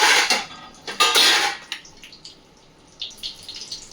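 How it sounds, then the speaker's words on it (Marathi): A metal lid clatters onto a pan where batter-coated food fries in oil, a few sharp clanks up close over a steady hiss and sizzle. "हे बघा, असं झाकण ठेवणार याच्यावर"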